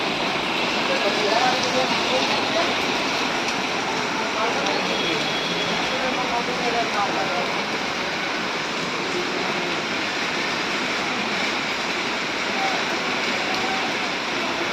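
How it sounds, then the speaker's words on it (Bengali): Heavy rain falls steadily at a roadside paratha stall under a dark sky, a dense, continuous broadband hiss that stays loud and even throughout with no pauses. "বৃষ্টি পড়ছে দেখো এরকম।"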